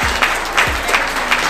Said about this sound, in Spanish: Vamos a recibirlo con un fraternal aplauso.